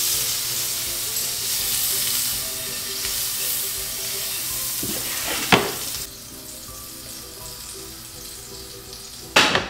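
Butter sizzles and melts in a hot pan, a steady close hiss that drops in level partway through, broken by a couple of short clatters.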